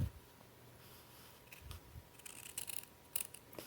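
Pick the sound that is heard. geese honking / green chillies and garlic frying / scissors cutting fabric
scissors cutting fabric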